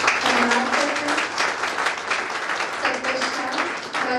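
Loud, sustained applause from the audience at a CISF honour ceremony held at a meditation training centre, given in thanks. Many hands clap in a thick, continuous roar with faint voices mixed underneath.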